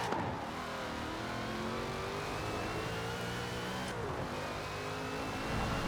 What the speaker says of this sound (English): This is a very quick car.